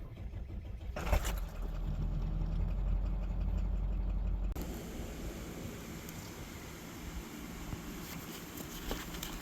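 Ford 7.3 Power Stroke diesel engine running on its original OEM starter, a steady low rumble that is louder and rougher for the first few seconds, then settles into an even, slightly quieter idle drone.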